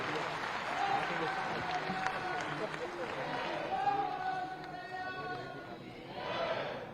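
A large audience in an auditorium at a community mahakumbh event applauds steadily, a continuous wash of clapping with some voices in the background.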